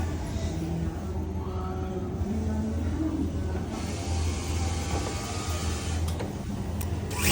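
A Brother S-7250 industrial sewing machine with a newly fitted rubber part runs steadily, giving a continuous close mechanical whir and hum with faint rattles and no speech.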